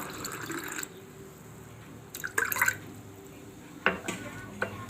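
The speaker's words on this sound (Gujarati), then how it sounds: "થોડુંક આપણે પાણી નાખશું." Water is poured into milk in a kitchen pot while making white rasgulla. A few soft splashes and drips sound close and fairly quiet over faint background noise.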